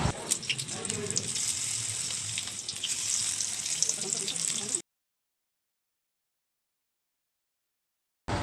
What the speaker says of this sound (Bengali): এবং টমেটোর বড়া ভাজা হচ্ছে